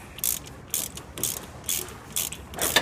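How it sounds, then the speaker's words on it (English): A ratchet socket spinning off a water valve with a valve removal tool gives four or five short, close clicking ratchet bursts in an even rhythm, with brief quiet gaps between them. "Just put your socket on there and it comes right off."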